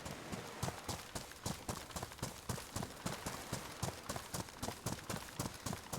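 Running footsteps in the video game DayZ, during a storm along the coast, make a fast, steady series of crisp thuds, evenly spaced and fairly faint, continuing without pause.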